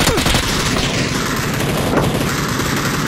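Gunfire in PUBG: loud, sustained rapid shooting that forms a dense, unbroken roar of shots close by, with occasional heavier booms.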